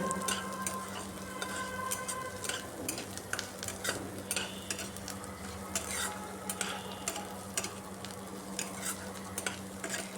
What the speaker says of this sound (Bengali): পেঁয়াজটাকে আরেকটু সময় নাড়িয়ে